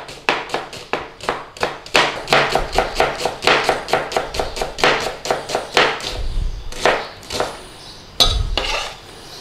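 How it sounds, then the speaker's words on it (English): A knife chops finely and rapidly through onion on a chopping board. The sharp, close taps come in a quick, even rhythm with a few brief pauses and heavier knocks on the board. "All we need to do now is finely slice some onion"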